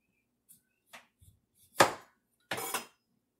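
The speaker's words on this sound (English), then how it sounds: "We also take off that skin, that outer skin." A kitchen knife peels the outer skin from a kohlrabi, giving a few faint taps and then two louder, close rasping strokes as the skin is sliced away, with no talk.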